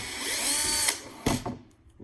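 Milwaukee power tool spinning out a screw: a close, loud whirring drill run for about a second, a brief clunk, then short bursts as the motor stops and restarts.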